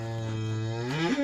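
A Simmental calf gives a single close, drawn-out moo that rises in pitch at the end, with no talking.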